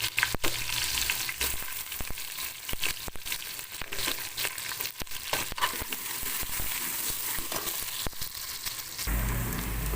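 Chopped onions frying in hot oil with browned garlic in a pan for Punjabi-style kadhi pakora, giving a steady close crackling sizzle with occasional stirring clatter; no one talks.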